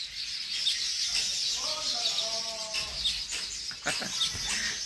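Birds call from trees in a busy outdoor chorus, with a dense high twittering throughout and a few clucking, fowl-like calls in the middle, fairly close and steady.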